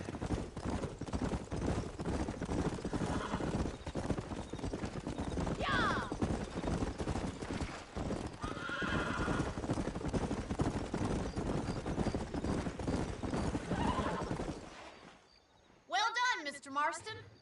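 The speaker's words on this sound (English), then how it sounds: "These are fine horses." Horses in Red Dead Redemption clip-clop along in a brisk, continuous hoofbeat rhythm with occasional whinnies, loud and close, while a voice speaks partway through and near the end.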